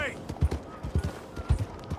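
Horse hooves clip-clopping in Red Dead Redemption 2, a sturdy golden horse moving at a steady walking rhythm, close and moderately loud, with someone talking over the footfalls.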